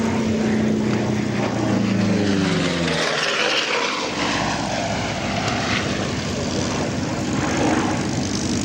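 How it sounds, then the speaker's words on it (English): A World War II B-17 bomber comes in to land at an airshow, its propeller engines a loud, continuous droning roar that shifts in pitch as it passes close by, with no talk. "Latter part of World War II, B-17 into land."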